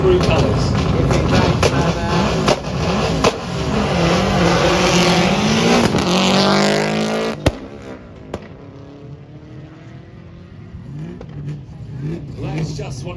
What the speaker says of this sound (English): 1996 Group A Subaru Impreza.